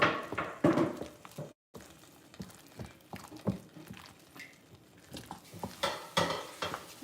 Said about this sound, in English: And stir. Oh, mix. Mix.